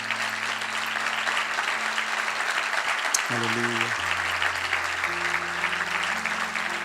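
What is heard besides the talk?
congregation applause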